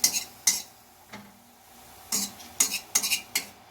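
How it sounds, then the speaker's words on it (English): A homemade chewing tobacco mixture is stirred in a pan with a utensil, giving sharp scraping and clinking strokes in irregular bursts. The strokes are close and fairly crisp, with no talking. "Stir that around."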